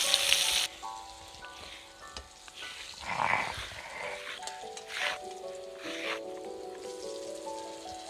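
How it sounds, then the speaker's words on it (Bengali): Potato pieces frying in oil with turmeric and salt for a chicken curry, giving a steady, soft sizzle that continues throughout, with a louder spell at the start and faint tones in the background. "আলুটা একটু লাল লাল করে ভেজে নেব।"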